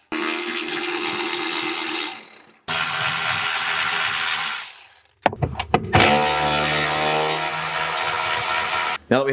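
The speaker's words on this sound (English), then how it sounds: "all you got to do is loosen with a ratchet from inside the trunk" A ratchet works loose the nuts holding a Harley trike tour-pack trunk, heard up close as loud, rapid clicking runs broken by short pauses, with faint metallic clinks between them.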